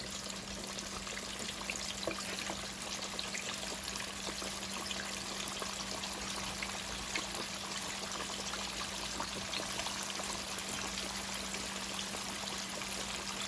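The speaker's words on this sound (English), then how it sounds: "Start the frying." Steady hiss and crackle of flour-coated ribs frying in hot oil, even and continuous, close by with no voices.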